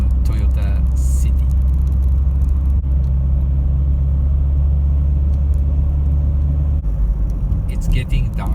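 A Peugeot 306 XSi drives along a road at dusk, its engine a steady low rumble with constant road and tyre noise, close and continuous throughout.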